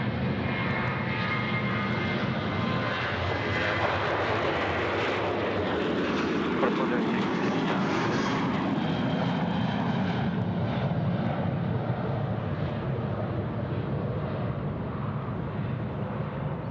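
Airliner engines at Sydney Airport roar loudly and steadily throughout, a broad sustained rumble with a passing swell midway, while people talk faintly underneath.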